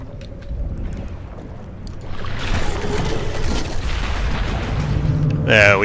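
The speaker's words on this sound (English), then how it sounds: "And another boom. Well, something exploded." Underwater explosion in the shark-versus-divers game Depth, a muffled rumbling boom swelling and lingering with watery churn, preceded by quieter ambience and ending in a sharp burst.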